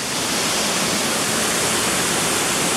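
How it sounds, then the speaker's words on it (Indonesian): The Cunca Wulang waterfall near Labuan Bajo roars loud and close, a dense unbroken rush of falling water filling the air with no voices. "Suara air terjunnya sih udah kedengeran jelas banget nih sekarang nih"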